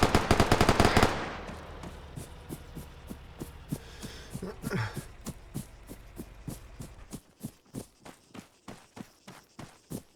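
Gunfire in the Chernarus video game: a dense burst of rapid automatic shots at the start, then a steady run of single, evenly spaced thumping reports continuing at mid distance, with a brief louder crack midway.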